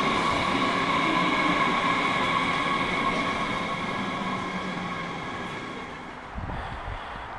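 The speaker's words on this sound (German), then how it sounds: "Ich bin hier am Bahnhof Dortmund, Gorsfeld Süd." A train at Dortmund Gorsfeld Süd railway station, a steady loud rumble with a tonal hum that fades slightly toward the end.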